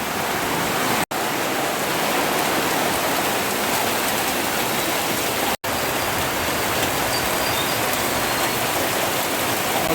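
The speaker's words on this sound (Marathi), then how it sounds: "काही क्षणातच बघा पावसा जोरदार सुरुवात झालेली" Dense, heavy monsoon rain pours steadily in a constant hiss, loud and close, with two brief dropouts in the sound, in a Konkan village.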